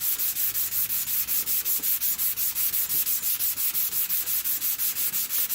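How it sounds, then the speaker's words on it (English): Steady rhythmic sanding of a skateboard deck, a harsh rasping hiss pulsing in quick even strokes, close and continuous. "I'm sanding everything around it to bring it all to the same level"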